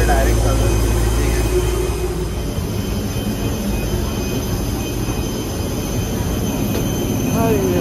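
Loud, steady jet engine roar from an airplane at an airport, a broad continuous rumble and whine filling the whole stretch with little variation, with brief voices underneath.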